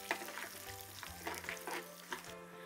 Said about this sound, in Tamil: கடுகு நல்லா பொரிஞ்சு வர டைமில் நம்மக்கிட்ட இருக்க இந்த உளுத்தம் பருப்பு, கடலை பருப்பும் தாளிப்பாக போடணும்